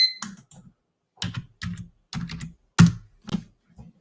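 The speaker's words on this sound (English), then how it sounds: "I have typed stop on my laptop several times now" Laptop keyboard typed in short irregular bursts of clacking keystrokes, close and fairly loud, with brief pauses between clusters and no talking.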